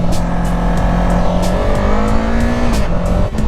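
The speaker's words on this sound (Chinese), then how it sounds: "我刚刚那个红绿灯看到它过来的时候，它那个排气的声浪挺好听的" A QJMotor 450 SR motorcycle passing, its exhaust note rising in pitch as it accelerates close by, loud and continuous over traffic background.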